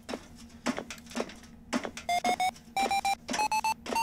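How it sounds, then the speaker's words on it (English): An O2 pressure alarm aboard a spaceship in Ostranauts beeps in a repeating pattern of short, steady electronic tones in clustered bursts, fairly quiet against a low ambient hum, with no talking. "that's an O2 pressure alarm, which we already have"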